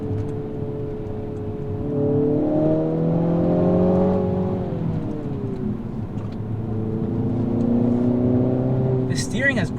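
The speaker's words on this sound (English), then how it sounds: "what a fun car to just rip around back roads" An all-wheel drive car pulls hard along back roads, its engine note climbing steadily in pitch, easing off midway, then building again, loud and close from inside the cabin throughout.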